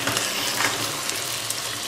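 A country rooster curry masala fries in oil while being stirred, giving a loud, dense sizzle close up with faint scraping and clicking from the stirring.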